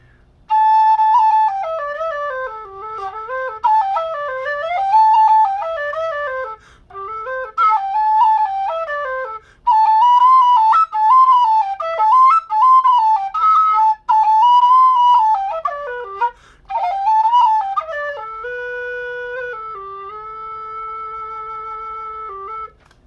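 An alto G whistle, a dudukoid made by Sergey Vertletskii, plays a loud, clear melody alone with quick ornamented runs and short breaks, then ends on a few long held notes.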